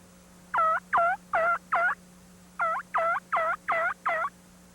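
A hunter imitates a raspy-voiced turkey on a diaphragm mouth call, making nine clear, close, evenly spaced yelps in a run of four and then a run of five over a faint steady hum.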